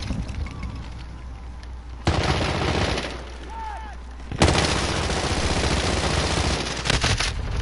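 Shotgun fire in a video game crashes out in dense bursts, loud and close, with two heavy blasts that open sustained, rattling volleys, between quieter stretches.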